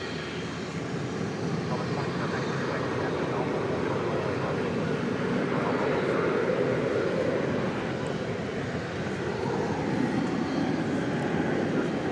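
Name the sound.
American Airlines Boeing 737 jet at DFW Airport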